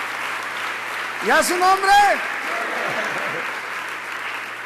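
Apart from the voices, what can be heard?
audience applause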